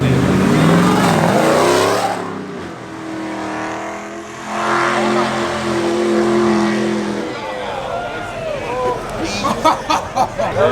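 A purple Dodge Hellcat roars loudly through a burnout, its engine revving and surging close by while people shout and talk over it.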